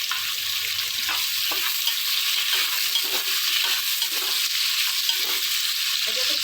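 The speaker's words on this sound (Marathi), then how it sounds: "छान आपल्याला फ्राय करून घ्यायचे." Onions fry in a pan with a continuous bright sizzle, while stirring adds soft scraping and clicking at intervals throughout.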